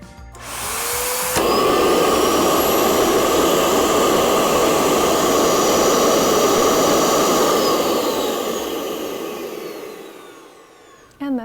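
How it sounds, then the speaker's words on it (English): A dental vacuum forming machine with a heated top section roars steadily as its vacuum pulls a chocolate mold, loud broadband whooshing that starts abruptly, holds for about eight seconds, then tapers off near the end. "It's going to get pretty loud once I turn it on the vacuum."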